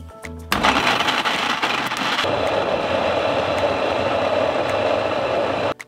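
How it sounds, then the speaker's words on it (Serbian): A kitchen blender purees chopped sausage with 400 g of sour cream, its loud, steady motor whir kicking in after a brief pause and running continuously until an abrupt stop at the end. "I sada ću ovo sjediniti u blenderu."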